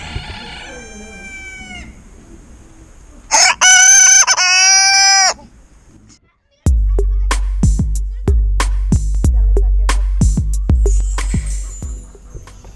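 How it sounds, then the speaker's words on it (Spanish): Chickens and roosters at a zoo in Santillana del Mar, Cantabria, crow loudly and close, followed by a run of sharp, repeated clucks over a low background hum. "Las gallinas cantan como destempladas."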